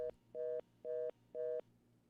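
Faint repeating telephone line tone after a caller's line drops during a radio call-in show: a short beep followed by three evenly spaced steady tones with silent gaps between them.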